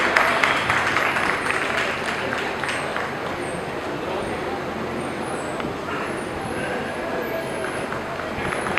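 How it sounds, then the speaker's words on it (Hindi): Continuous applause from the audience at a free medical consultation camp, with a loud burst at the start that settles into steady clapping. Background noise and some voices run under it. "जोरदार तालियां निरंतर बजाते रहे"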